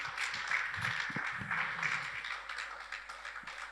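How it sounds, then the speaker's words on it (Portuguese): A church congregation applauding together, a dense wash of clapping hands sustained for several seconds at moderate volume, with a few voices briefly mixed in early on. "Uma linda salva de palmas."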